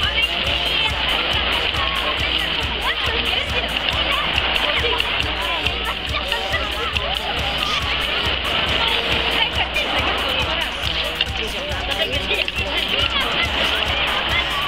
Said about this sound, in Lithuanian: Bangos mažos dabar.